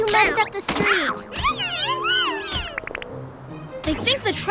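Cartoon cats meow repeatedly in bright, sliding cries, several overlapping voices close by, with a few quick thumps and clatters and some speech mixed in.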